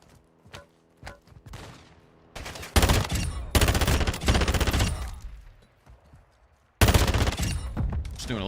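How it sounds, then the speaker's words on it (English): Bursts of rapid automatic fire from the Avancer gun in the video game DMZ, a few short isolated shots followed by long loud sustained volleys with a brief pause between them. "I like this gun. The Avancer."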